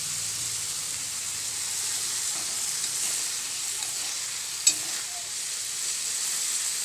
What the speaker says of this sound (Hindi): देखिए मछली कैसा फ्राई हो रहा है।